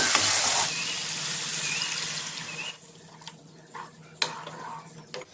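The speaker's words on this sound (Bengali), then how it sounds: "এবার আমি এতে দিয়ে দেবো অল্প করে জল" Water poured into a pan of frying fish-curry masala, a loud hissing sizzle at first that quickly settles into quieter bubbling and light scraping, with a few sharp clinks of utensil against the pan.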